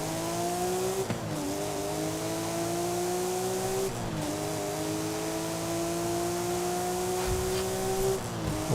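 A Porsche race car engine in a racing video game climbs steadily through the gears, its pitch dropping sharply at each of several shifts roughly every three seconds, loud and continuous.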